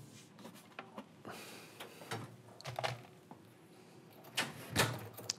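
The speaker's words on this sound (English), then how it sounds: "First thing you're going to do is just close the door." Door of a beverage machine being swung shut, a few soft bumps and clatters with a sliding, rattling closing sound, quiet and close with no talk.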